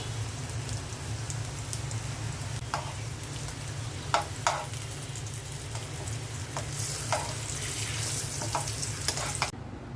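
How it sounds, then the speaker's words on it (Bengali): Pumpkin slices with black cumin frying in a pan give a steady, close, rain-like sizzle, with a few sharp clicks and stirring taps scattered throughout and no talking. "মিষ্টি কুমড়া ভাজার মধ্যে দিয়ে দিচ্ছি কালো জিরা"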